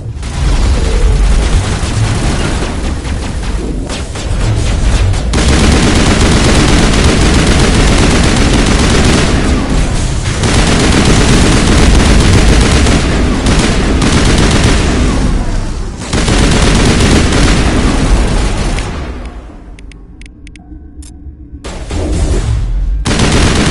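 Sustained heavy gunfire from a Mass Effect firefight, dense bursts and rapid volleys filling nearly the whole stretch with loud, continuous crackle and booms, easing briefly near the end before resuming.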